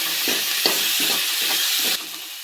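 Garlic sizzling in hot oil while tempering curd kadhi, with cumin and chilli paste in the pan; a steady close fry hiss broken by several rhythmic stirring scrapes, then the sizzle drops back near the end.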